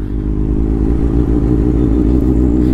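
A 2024 Kawasaki ZX6R with a loud modified exhaust idles close by, a deep, steady, throbbing rumble with no revving.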